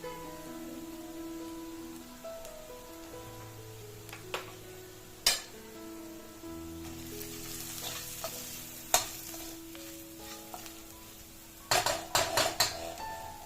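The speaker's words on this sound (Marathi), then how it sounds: "नंतर त्याच्यात चवीनुसार मीठ आणि मसालो घालून व्यवस्थित परतून घ्यायचा" Onion sautéed with salt and masala in a pan for a Malvani chickpea curry, giving a steady close sizzle with spoon scrapes and a few sharp clinks against the pan, busier clatter near the end.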